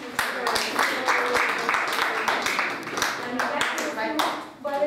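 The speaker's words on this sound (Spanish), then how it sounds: "Un aplauso." Audience applause at a talk, a brisk run of clapping with distinct sharp hand claps standing out, plus some voices mixed in.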